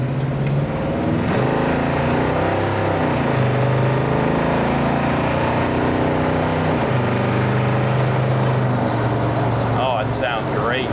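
A 1959 Ford Ranch Wagon engine with power steering and power brakes revs loud and close, its pitch climbing and falling through several throttle swells over a constant mechanical roar.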